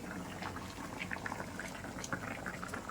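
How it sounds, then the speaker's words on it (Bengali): Raw mango boils in a covered pot, making a quiet, continuous bubbling with small irregular pops, steady and close. "আমটা বোধহয় সিদ্ধ হয়ে গেছে, চলুন দেখে নিই আমটা সিদ্ধ হয়েছে কিনা"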